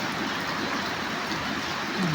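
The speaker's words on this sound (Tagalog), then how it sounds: "Inabot naman ang ulan." Heavy stormy rain pouring down steadily outdoors in the Bicol mountains, a dense loud hiss filling the air throughout with no one speaking.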